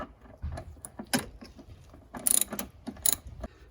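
Ratchet with an extension working 10 mm bolts loose on a Toyota Sienna during a thermostat replacement: sparse metallic clicks and clanks, a few sharp ratcheting bursts, close and alone without talk.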